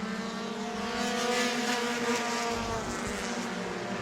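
A Chevy Cavalier and other race cars lap Auburndale Speedway in a sustained, loud engine drone whose pitch shifts gradually, with no talk over it.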